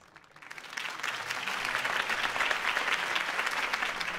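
Crowd applause swells up after a campaign speech by Harvey Dent in a Batman video game, a dense, steady clapping that fades in over the first second and holds loud throughout.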